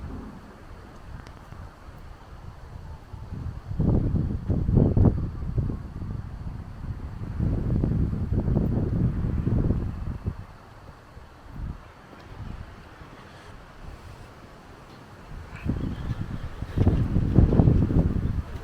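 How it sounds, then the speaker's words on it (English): Strong gusts of wind on a mountaintop in Mondulkiri, Cambodia buffet the microphone in rumbling bursts that rise and fall, loud and close with calmer gaps between. "It's very, very windy up here."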